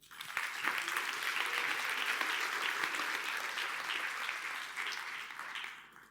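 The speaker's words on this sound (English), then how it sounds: "Give him an applause" A conference audience claps steadily for several seconds, a dense wash of many hands that holds level before tapering off at the end, with no talking over it.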